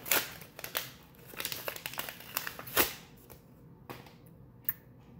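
A heavily taped mail package is pulled open up close, with a burst of crinkling, crackling and tearing tape, sharp snaps and rustles in an uneven flurry that eases toward the end.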